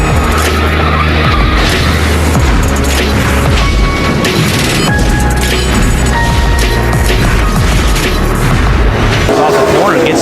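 A NASCAR stock car slams into the wall during a race, with loud, continuous engine roar, tire skidding and a heavy impact thud amid dense crash noise throughout.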